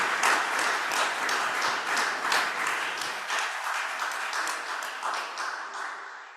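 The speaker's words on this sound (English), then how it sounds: "And let's give our panelists a round of applause here." Audience applause for panelists at a literary centenary celebration, with distinct individual claps in a moderate crowd, loud at first and then gradually thinning and fading.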